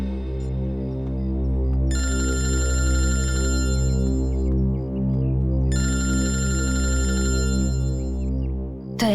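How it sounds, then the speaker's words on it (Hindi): A telephone rings loudly in two distinct bursts of repeated electronic trills, separated by a short pause, over a steady low background of music with no talking. "दया सर का फोन?"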